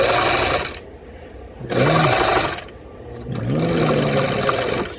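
A Bernina Record 7 sewing machine stitches fabric in three loud, steady runs of rapid needle clatter, separated by brief pauses with quieter handling sounds.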